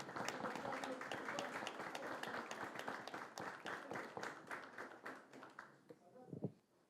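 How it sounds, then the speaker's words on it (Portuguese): Audience applauding the singer at a Niterói academy of letters ceremony, dense sustained clapping with scattered voices underneath, fading out toward the end. "uma salva de palmas"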